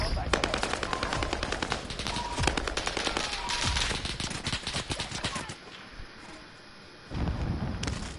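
Rapid automatic gunfire in a Call of Duty match, loud dense bursts that run for several seconds, stop abruptly, then start again near the end, with voices talking underneath.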